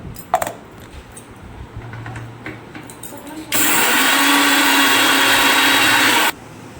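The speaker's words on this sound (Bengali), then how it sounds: "আমি এবার পোস্ত, সর্ষে, সাদা সর্ষে, নুন, কাঁচা লঙ্কাটা বেটে নেব।" An electric mixer-grinder whirs loudly for about three seconds while grinding poppy seeds, mustard seeds, salt and green chilli into a paste, after quieter kitchen handling noises.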